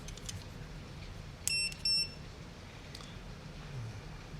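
Klein non-contact voltage tester sounding an alert beside a plugged-in computer, two short high-pitched electronic beeps, faint beneath a quiet background hiss.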